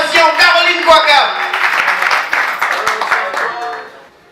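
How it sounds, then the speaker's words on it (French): Audience applause for a comedian being introduced on stage, a broad wash of clapping that swells and then fades out, with an announcer's voice running over the first half. "veuillez applaudir pour Kwakab"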